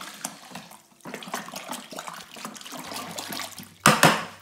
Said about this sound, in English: So give it a good stir so that all the sugar is dissolved.